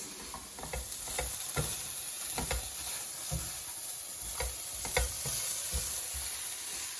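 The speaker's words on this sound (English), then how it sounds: "We'll add that cabbage and let it cook with all the rest of the vegetables for that last 2 minutes" Cabbage and other vegetables frying in a pan for fried rice, a constant sizzle with repeated soft knocks and scrapes from stirring, fairly quiet and close, with no talking.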